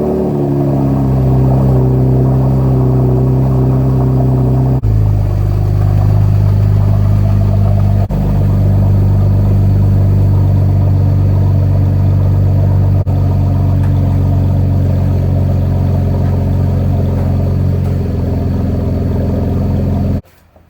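A Camaro RS engine idles with a steady low rumble, loud and close, as the car is pulled halfway out in the rain, with slight shifts in tone but no revving.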